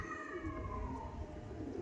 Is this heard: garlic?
no